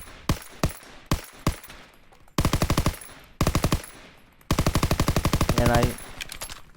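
Gunfire from a gun in the video game Call of Duty: short bursts of rapid automatic shots, then longer sustained strings of fire, loud and close, separated by brief gaps.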